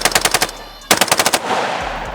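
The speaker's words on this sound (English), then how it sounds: "you can see you can do some bump firing" Rifle bump fired from the shoulder with no bump stock gives two rapid bursts of loud gunshots, roughly six quick reports each, the second burst trailing into echo and outdoor rumble.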